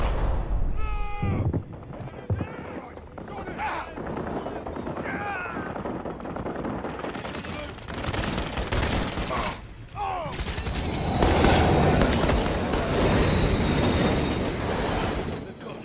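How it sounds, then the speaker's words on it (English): Gunfire during a cutscene in the video game Modern Warfare 3: sharp broadband cracks and bursts cut through a dense, rumbling mix of game sound effects, loud and close throughout. "So Soap MacTavish is shot in the head"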